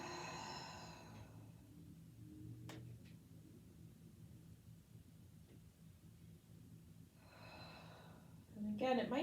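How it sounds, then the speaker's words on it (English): Deep breaths during a gentle yoga session come as soft, airy rushes, one at the start and another late, separated by near silence. "Couple of deep breaths."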